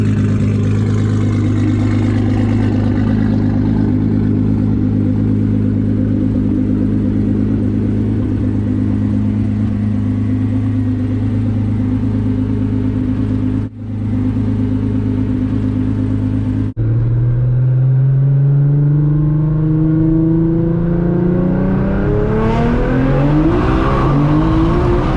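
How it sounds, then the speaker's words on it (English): A 1600-horsepower Nissan GT-R rumbles loudly from close by, then drops off briefly and roars back up through a hard pull with rising engine pitch, no voices over it. "He has a 1600 horsepower GTR, and we actually took it for a ride last night, and we did a couple pulls"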